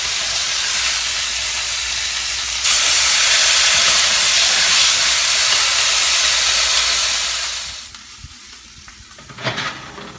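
Pork for tacos sizzles loudly in a pan: a dense, steady hiss of searing meat that drops away near the end, followed by a brief clatter as the pieces are flipped.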